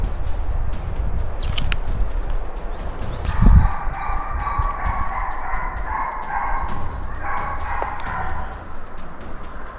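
Hunting dogs on a fox hunt near Tsalka bay in a steady, tonal chorus that rises a few seconds in and carries on at moderate distance over an outdoor background, with a brief thump partway through.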